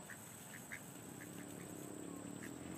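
Ducks quack in several short, separate calls while being fed, set against a steady outdoor background hiss with a faint voice now and then.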